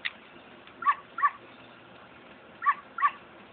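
A dog in the Zelda: Ocarina of Time video game gives four short yipping barks in two quick pairs, with a brief whimper at the start, thin and game-like over a faint hiss.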